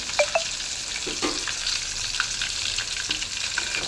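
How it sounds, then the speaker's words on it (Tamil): Masala-coated fish sizzles steadily in hot oil in a pan, with a continuous close frying crackle and a few brief clinks and stirs, and no talking. "மீன் வேறு ஒரு பக்கம் நல்லா பொரிஞ்சிட்ருக்கு"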